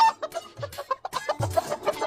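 Hens cluck near a chicken coop, close and loud, in a quick run of short, repeated clucks and squawks with no voices over them.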